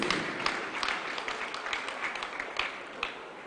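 A church congregation at a holy communion service claps hands, a busy spread of clapping with some sharper, closer claps standing out at irregular moments, moderately loud throughout.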